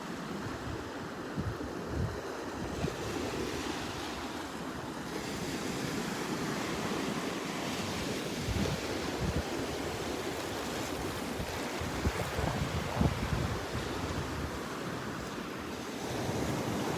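Ocean surf washes up steadily on a beach shore at Delnor-Wiggins, a continuous hiss and rumble of breaking waves mixed with wind buffeting the microphone, with no voices.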